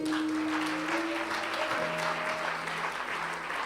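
A church congregation applauding after a call to acclaim the word, a sustained wash of clapping from many hands filling the room at a steady level for several seconds.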